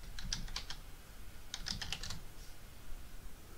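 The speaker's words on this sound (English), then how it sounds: "Let's type command." Quick bursts of typing on a computer keyboard, two short clusters of close, crisp keystrokes separated by a pause, as a command is entered for a Linux server SSH connection.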